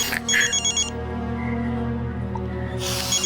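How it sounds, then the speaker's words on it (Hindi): Telephone ringing in electronic ringtone bursts, one short trill at the start and another at the end with a quieter tonal stretch between, close and clear with no talk. "डैडी का फोन है, मैं जरा बात कर लेता हूँ।"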